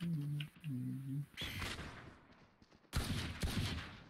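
Valorant gunfire arrives in two sharp bursts of loud shots separated by quieter game sounds, with a tonal ability cue at the start; a voice briefly talks in between.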